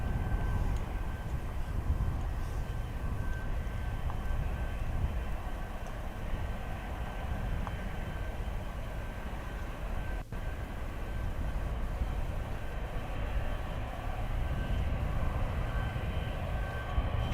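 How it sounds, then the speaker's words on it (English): An Emirates Boeing 777 airliner at Dublin Airport, a distant steady jet engine rumble and hum lasting throughout, faint and continuous with one brief click midway. "Obviously, our Emirates 777."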